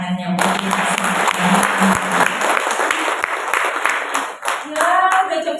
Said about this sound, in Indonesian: Boleh tepuk tangannya untuk kita semua.